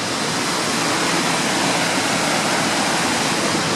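Victoria Falls waterfall roaring in the dry season, a steady, dense broadband rush of falling water that fills the whole clip at constant loudness with no voices.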